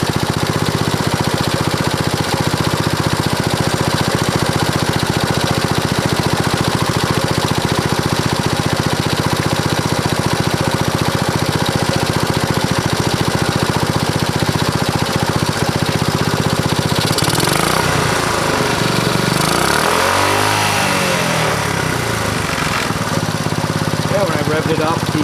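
A 1964 Honda S90 motorcycle engine with a spark issue runs steadily near at hand, then revs up and falls back late on, with a voice talking over it.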